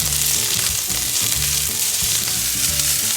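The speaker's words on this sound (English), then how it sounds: "Add bok choy stems to hot pan and stir occasionally until" Bok choy stems sizzle loudly in a hot pan with a little olive oil, a dense close frying hiss with a few stirring scrapes.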